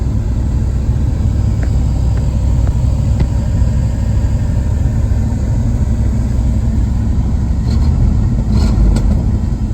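A 1978 Ford Ranchero Brougham's engine running steadily at a loud, even idle, with a continuous low rumble and a faint light clatter near the end.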